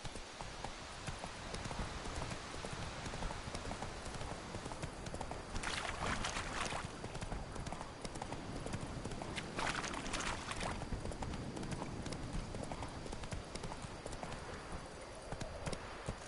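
Hooves of the horse Roach gallop in The Witcher 3 on PS4, a rapid steady clip-clop rhythm with game ambience and brief swells of rushing noise.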